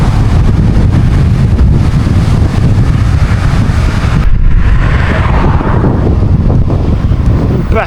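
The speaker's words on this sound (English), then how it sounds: "Back against the wind" A strong headwind roars steadily across the microphone while cycling from England toward Amsterdam near Dunkirk, a loud, unbroken low rumble with gusty buffeting throughout and no voices.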